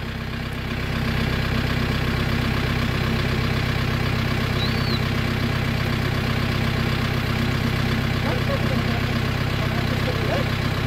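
A heavy diesel tractor engine idles steadily and loudly close by, a constant low throbbing rumble with faint voices far in the background.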